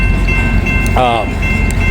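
A passing coal train keeps up a loud, heavy rumble of rolling wagons, with a brief human voice breaking in for a moment near the middle.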